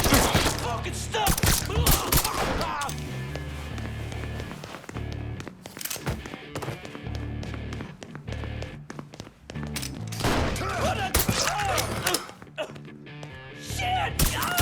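Gunfire during a combat scene in the Mafia III open-world crime game, loud rapid bursts and volleys of shots in repeated clusters, mixed with footsteps, grunts and background game sound.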